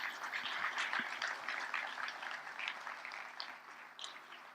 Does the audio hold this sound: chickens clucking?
no